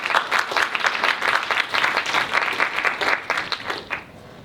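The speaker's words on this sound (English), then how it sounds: "please give our candidates for engineering senator a warm round of applause as they enter the stage" A student-government debate audience claps warmly as engineering senator candidates walk onto the stage, dense, lively applause with a few louder claps standing out before it tapers off.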